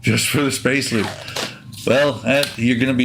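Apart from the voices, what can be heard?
No everyday noises stand out.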